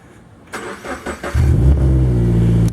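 Subaru BRZ with a newly installed exhaust cranking over in a few short bursts before the engine catches and settles into a steady, throaty rumble close by.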